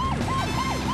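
A loud, close police car siren in a children's cartoon wails up and down in a repeating sweep, steady and continuous.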